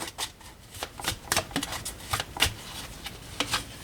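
A deck of tarot cards being cut and handled up close, a run of crisp papery snaps and riffling flicks in quick, uneven bursts, with no voices.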